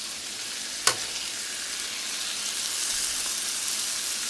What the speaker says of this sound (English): Let it all cook down a little bit.